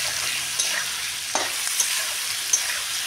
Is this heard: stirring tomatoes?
yes